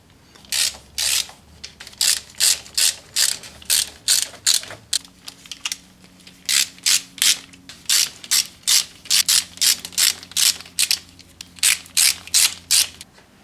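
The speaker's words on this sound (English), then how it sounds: "now basically we just go around the circumference and start removing these bolts" A ratchet loosens the transmission pan bolts on a Chrysler PT Cruiser. It gives off repeated, close, loud bursts of rapid clicking in an uneven rhythm, one bolt after another, with no talking.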